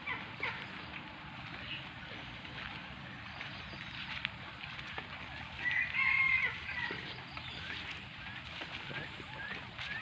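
Rooster crowing in the middle distance on a small Thai mixed garden farm, one crow standing out near the midpoint over steady rural background noise and scattered chicken sounds.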